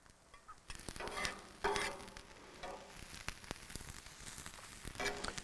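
Garlic hits onions cooking in a pan outdoors on a camp stove, giving a faint, soft sizzle with intermittent scraping and stirring clicks, no voices.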